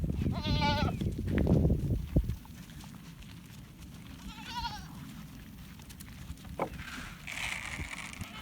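Goats on a farm where they are being treated for mites give two clear, wavering bleats, one early and one midway, over low rustling and handling noise, fairly close by. A fainter call comes near the end.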